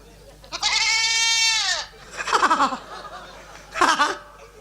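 A young goat kid bleats three times up close, a long wavering cry followed by two shorter, quavering calls with gaps between them.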